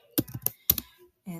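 Keystrokes on a computer keyboard while an email address is typed into a field, a few quick broadband clicks in short bursts, close and fairly loud, followed by a brief voice.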